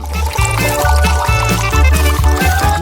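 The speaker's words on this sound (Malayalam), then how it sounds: "പിന്നെ അതിലേക്ക് കുറച്ച് പാൽ ഒഴിക്കുന്നു." Milk pours steadily into a bowl for a few seconds, a soft liquid stream running over rhythmic background music.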